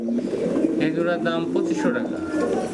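Large pigeons being sold coo in soft, throaty, repeated rolls close by, with a voice talking over the birds throughout.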